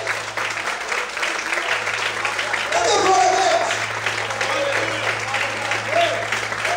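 Sustained applause from a church congregation filling a room, with a voice speaking over it and a low steady hum underneath.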